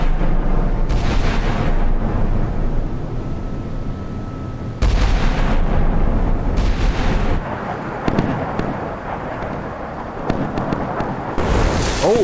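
Naval 5-inch guns firing in the Sea Power video game, several heavy booming blasts at irregular intervals, each a sudden loud burst with rumbling decay over continuous background roar.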